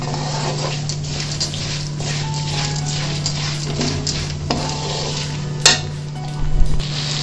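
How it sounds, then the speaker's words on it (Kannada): Mint leaves crisp in hot oil in a pan after the stove is switched off, giving a soft, even sizzle over a constant low hum, with a couple of light metal clinks near the end. "ಎಣ್ಣೆಗೆ ಹಾಕಿ ಸುಮ್ಮನೆ ಗರಿಯಾಗೋವರೆಗೂ ಫ್ರೈ ಮಾಡ್ಕೋಬೇಕು"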